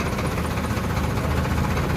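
Farmtrac Powermax tractor engine running steadily on a road in Supaul, a continuous low diesel rumble with mild vibration, loud and close, with no talk.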